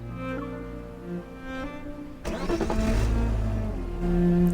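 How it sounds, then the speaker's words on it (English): A video-game car engine rises as the car pulls up, then settles to a low idle as it stops right in front, loud and close with no talking. "A car appears and stops right in front of us."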